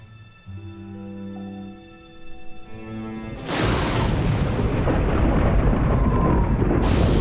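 Thunder before a storm in a biblical drama set in open country: a deep, loud rumble breaks in midway after quieter tones and rolls on steadily to the end.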